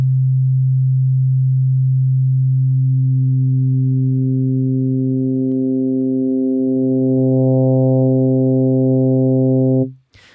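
A pure synthesizer sine tone grows brighter and buzzier as stacked overtones fade in over about ten seconds, then cuts off abruptly.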